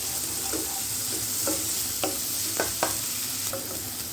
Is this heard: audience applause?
no